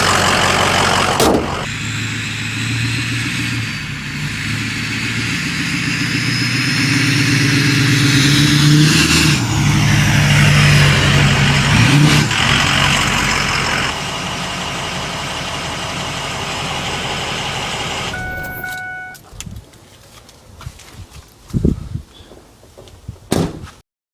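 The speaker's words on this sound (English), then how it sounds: "Let's get this truck parked back in its spot over there" A Ford 6.0 Powerstroke diesel truck idles loudly up close, then revs and pulls away with rising engine tones. It settles back to a steady rumble before shutting off, followed by scattered door clunks and knocks.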